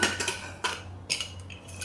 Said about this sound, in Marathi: आता आपण कुकर ओपन करून बघूया